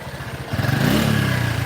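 A car engine strains and labours under load while driving along a road in the evening. The droning, rising engine note is close and loud, with no voices.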